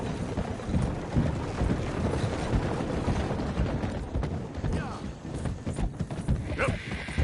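A horse's hooves clip-clopping at a steady trotting rhythm in the Red Dead Redemption 2 game, close and continuous over other game sounds, with brief voices now and then.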